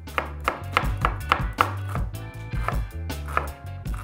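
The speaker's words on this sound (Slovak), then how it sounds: "začneme tým, že si nakrájam takéto dve menšie cibule na drobno" A knife finely chopping two small onions on a board for French lentil soup, quick rhythmic chops in close, steady bursts with short pauses.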